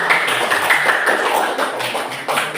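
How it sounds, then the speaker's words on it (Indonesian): A fourth-grade class claps together for a group of classmates, a dense, close and steady patter of hands lasting a couple of seconds. "Kita beri tepuk tangan untuk kelompok yang sudah."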